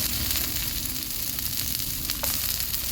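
Butter and onion fry in a pan with a little coconut oil, giving a loud, continuous close sizzle and crackle with no talking.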